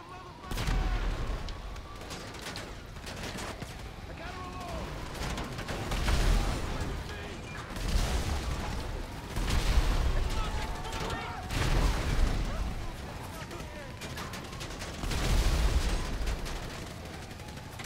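Gunfire from the video game GTA 5: repeated booming shots and bursts recur throughout, loud over a busy game mix with mechanical clatter and intermittent talk.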